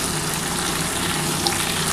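Drumsticks and potatoes frying with onion and tomato in a pan, a steady soft sizzle with a faint bubbling texture, close and continuous for a short moment.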